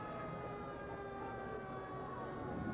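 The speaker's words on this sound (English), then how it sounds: "Of course, you can hear the sirens in the background." Fire engine sirens wail steadily in the background of a Christmas parade, a continuous layered tone heard from a distance, with no clear speech over it.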